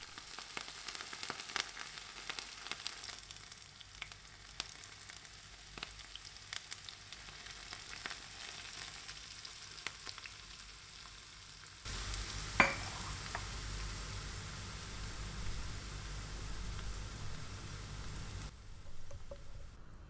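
Hot oil is poured slowly over chili oil ingredients such as green onion, giving a soft crackling that swells into a louder, dense sizzle partway through, close by, with no talk.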